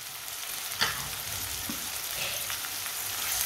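Chopped green garlic, two finely chopped tomatoes and a green chili fry in a pan, a continuous close sizzle with soft stirring and a few light knocks, no talking.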